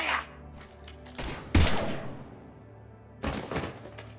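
Gunfire from the Mass Effect 3 video game comes in a few sharp shot bursts with heavy thuds. A strong blast hits near the middle and another burst follows later, set against low game ambience.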